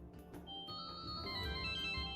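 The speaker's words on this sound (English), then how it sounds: "I could give the residents a little taste of the future with one of the ringtones." A cell phone ringtone plays in the point-and-click game Secret Files 3, a bright melodic electronic tune with sustained tones, steady and moderately loud for about two seconds with no talking.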